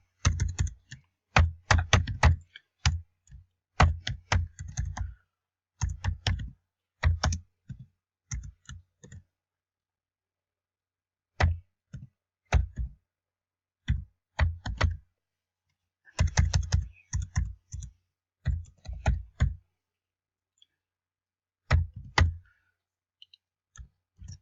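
Fingers type on a computer keyboard, crisp close clicks in fast irregular bursts separated by short pauses, with no voices over them.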